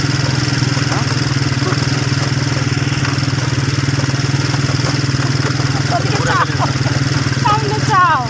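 A motorcycle engine runs steadily during a ride around Cox's Bazar, a loud, constant throbbing drone with slight revving near the end while people talk over it.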